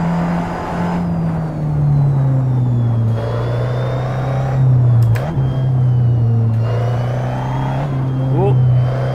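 A race car engine in the video game Assetto Corsa drones and revs through shifting gears, rising and falling in pitch at fairly close range, while a voice talks over it at times.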